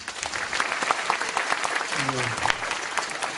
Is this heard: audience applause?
yes